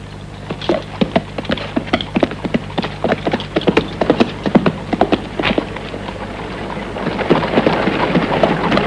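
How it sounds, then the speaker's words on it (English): Horse hooves clip-clop steadily on hard ground in a Western film scene, several horses moving at a walking rhythm, moderately loud and continuous, with wind or rain in the background. "Get those horses of yours moving, Tom."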